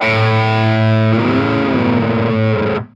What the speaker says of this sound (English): Next one we'll go to is pitch harmony, which is quite a cool one.